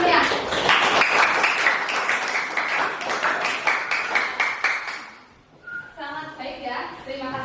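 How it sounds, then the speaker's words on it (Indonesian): A classroom of children claps in a quick, rhythmic burst for about five seconds, fairly close and lively, then the clapping fades and voices speak. "Kasih tepukannya satu ya."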